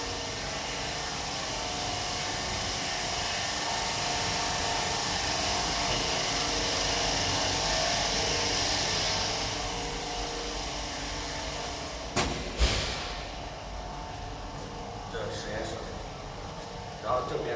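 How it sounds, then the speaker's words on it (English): Freeze dryer machine in a peptide factory producing powder product, a steady broad mechanical hum and airflow roar filling the room, with a few knocks and clatters near the end. "This is the frozen dry machine for the powder product."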